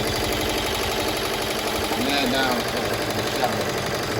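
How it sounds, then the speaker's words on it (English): Embroidery machine laying down an underlay stitch on chenille fabric: a fast, steady mechanical clatter of needle strokes, close and continuous, with a voice talking over it. "we're putting down our underlay stitch right now"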